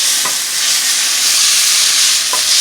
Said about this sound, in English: Drying them in a wok so they get dry.